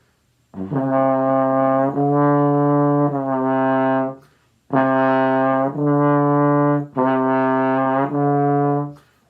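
A trombone plays legato tongued notes, sustained and smoothly connected with soft attacks imitating a slur, in two phrases of three notes each separated by a brief pause.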